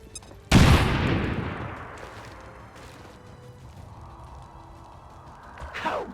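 Grenade blast in XCOM 2 erupts loud and close with a broadband boom, then a long decaying rumble with scattered gunfire and debris clatter, ending in a rising whoosh.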